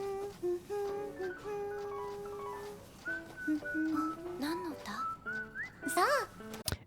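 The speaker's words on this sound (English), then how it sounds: "And then it picks up in the whistle" Whistling carries a melody in an anime episode from Tamako Market, a clear, close series of sliding and held notes that rises and falls, with a voice speaking briefly partway through.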